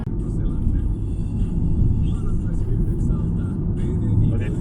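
Car driving along a road in autumn Lapland, a steady low engine and road rumble that holds at an even level throughout, with talk over it at times.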